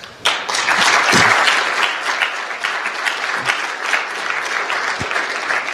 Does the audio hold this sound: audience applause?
yes